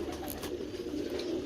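Low, steady cooing from a champion racing pigeon in a Punjabi pigeon-keeping setting, murmuring continuously at close range with faint higher chirps above and no talk.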